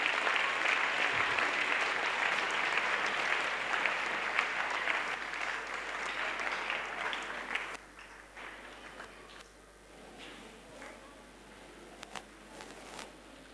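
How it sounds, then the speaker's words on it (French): A congregation at an evangelistic crusade claps in a dense, sustained wave that stays loud for about eight seconds, then drops sharply and thins into scattered, fading applause. "A clap to Jesus Christ"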